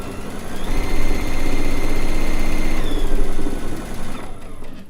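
Sewing machine stitching down fabric pieces for a rag quilt, a steady mechanical whirr running for about three seconds, close and fairly loud, then stopping briefly before another short burst.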